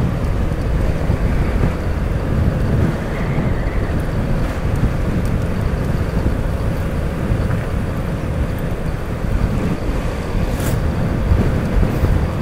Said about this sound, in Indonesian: Anginnya gede banget guys.